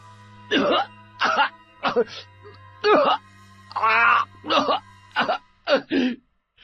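A string of about nine harsh, throaty coughs in quick succession, loud and close, each with a groaning voiced edge, as mud gushes from the mouth.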